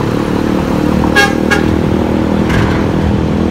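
A heavy Scania diesel engine rumbles steadily as a large intercity bus idles or rolls in at a rest stop, with a couple of short horn toots sounding over it.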